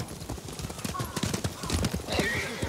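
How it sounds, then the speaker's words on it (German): Several horses gallop in the video game Ghost of Tsushima, with quick, overlapping hoofbeats, a whinny rising amid them, while voices talk over the busy, close-up clatter. "Die Hunde haben die Pferde verjagt."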